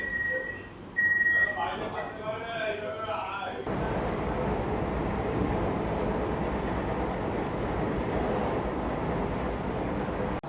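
An AC local train on the Sealdah–Bongaon line running at speed, a steady broadband rumble and rush filling the cabin after a short stretch of quieter interior noise with faint tones at the start.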